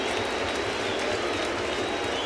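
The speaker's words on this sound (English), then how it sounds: "Crowd chanting Luke." Crowd noise fills a baseball stadium during a Detroit Tigers versus New York Yankees game, a steady dense roar of many voices with no individual chant clearly standing out, sustained and loud throughout.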